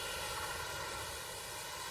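A video game aircraft engine drones loud and steady during a dogfight, a continuous dense roar with no breaks and no talking over it.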